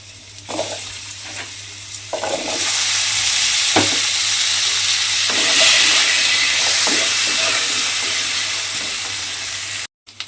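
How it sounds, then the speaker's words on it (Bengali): Small potato pieces fry in oil with a loud, dense sizzle that swells after the first couple of seconds, with intermittent stirring knocks, before cutting out briefly near the end. "সেই আলুগুলো কিন্তু এই তেলের মধ্যে দিয়ে একটু লাল করে ভেজে নিতে হবে।"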